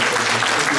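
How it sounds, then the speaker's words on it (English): Audience applause at a conference session on leaders and mass media, a brief, dense burst of many hands clapping together, loud and continuous. "one more round of applause for Mr. Kavi."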